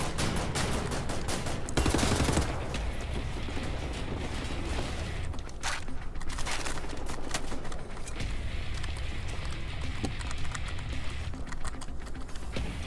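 Dense video game gunfire rattles continuously through the whole stretch, bursts of shots layered over steady clatter and mechanical clicks, loud and busy with no voice on top.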